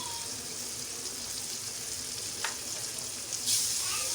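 Onions frying with red chillies and turmeric added in a pan for bhindi fry, a steady close sizzle throughout with a brief stir or clatter near the end.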